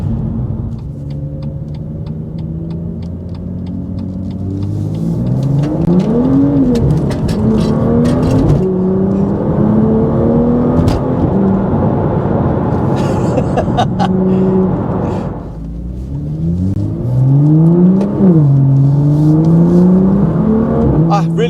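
A BMW M2 LCI with a Stage 2+ tune revs loudly and repeatedly, pitch rising and falling through throaty roars, close by with a brief dip midway.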